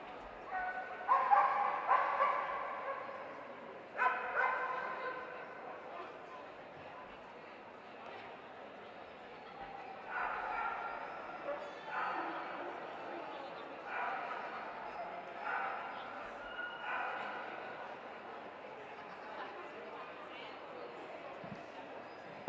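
A best-of-breed miniature wirehaired Dachshund at a hound show gives repeated sharp barks and yips with some whimpering. A commentator talks over the ringside crowd noise between the bursts.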